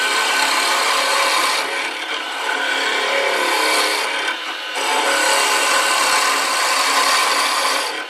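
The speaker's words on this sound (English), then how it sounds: "I get a very good finish with this little roughing gouge" A small roughing gouge cuts a wooden pen blank spinning on a lathe, giving a steady, loud broadband scraping hiss that dips briefly twice as the tool lifts, with no talk.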